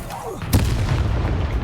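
Blasting Confringo spell explosion in Hogwarts Legacy: a sharp, loud burst followed by a heavy rumbling boom that lingers under game noise, with a voice present.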